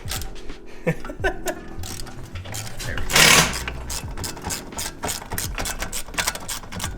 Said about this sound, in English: Yeah, this is a fender roller.